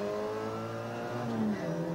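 A Mini Cooper rally car on the Monte Carlo Rally, its mid-pitched engine droning steadily and climbing in pitch as it accelerates, close and continuous with no talk.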